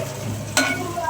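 Green peas sizzle in a hot pan while being stirred for a chicken curry, a soft steady fry with one sharp scraping stir midway.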